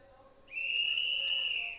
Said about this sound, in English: There is the magic whistle.